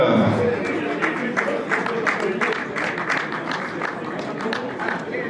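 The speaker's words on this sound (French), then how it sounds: "on l'applaudit bien fort aussi" A crowd at a rally prize-giving ceremony applauds a co-driver with steady, continuous clapping, loud and close, and voices mixed in beneath it.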